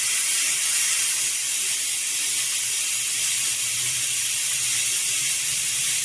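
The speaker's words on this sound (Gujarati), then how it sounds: "હવે આપણે આ કુકરને છે એ બંધ કરી અને આપણે આમાં 6 વિસલ છે એ વગાડી લેશું" A pressure cooker of broken wheat lapsi over a low gas flame gives off a loud, steady hiss of escaping steam that runs unbroken for the whole stretch, with no voices.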